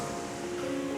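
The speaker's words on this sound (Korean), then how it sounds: "파도가 거칠게 부릅니다." Sea surf rolls onto a steep sandy beach, a soft, steady wash of breaking waves filling the brief moment without voices.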